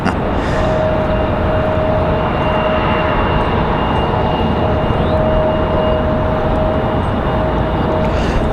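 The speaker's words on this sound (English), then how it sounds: "So get ready to fire up those Trents." Airliner with Rolls-Royce Trent engines spooling up at Raleigh-Durham airport, a steady broadband roar with a thin sustained whine, heard from a distance and constant throughout.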